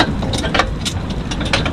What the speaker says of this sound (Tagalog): Ang makina namin, hindi maganda.